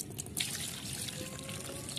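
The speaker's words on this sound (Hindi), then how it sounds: "इसमें मैं अब पानी कर दूंगी" Water is poured into a container holding a homemade plant fertilizer mixture. It makes a steady, quiet splashing trickle that runs without a break for two seconds.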